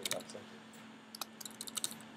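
Keys on a computer keyboard click in a quiet, uneven patter of light taps, a few at the start and a quicker run near the end, over a faint steady hum.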